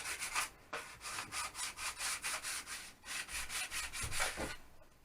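Hand sanding with very fine 600 grit sandpaper on a glass-cloth-covered tail part of an RC model L39 jet, a steady run of short rhythmic rubbing strokes, close and fairly quiet, with no talking.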